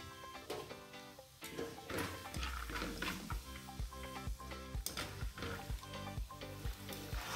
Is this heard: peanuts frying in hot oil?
yes